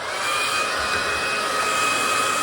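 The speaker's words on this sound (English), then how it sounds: "Always keep your hair dryer moving, by the way." A hair dryer blows continuously at close range, a loud steady whirring hiss with a faint high whine running throughout.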